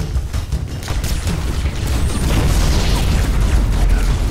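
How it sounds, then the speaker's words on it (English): A grenade bursts in Halo: Combat Evolved Anniversary, a loud rumbling boom that swells and holds as dense low roar with clattering debris, no speech over it. "We have to throw this nade right on time."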